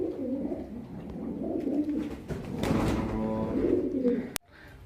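A female Surkha-breed low-flying pigeon coos close by in a series of soft, throaty, rolling calls, ending with a sharp click.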